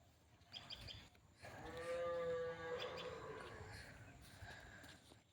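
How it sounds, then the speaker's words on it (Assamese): Cattle low near a river in a long, drawn-out moo that swells and fades, fairly close and clear over a quiet outdoor background. "নদীৰ আগত দেখি গৰু আছে"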